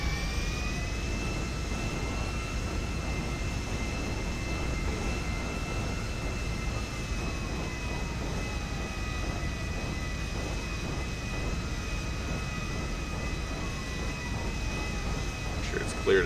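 Airliner jet engines taxiing in the video game GTA V produce a loud, continuous roaring whine with steady turbine tones and a slowly falling pitch, sustained throughout without pause.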